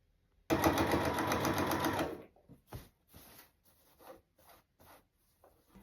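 A sewing machine runs a continuous stitch around the edge of a skirt, a steady whirring burst that lasts about two seconds. It stops abruptly and is followed by quieter scattered rustles and taps as the fabric is handled.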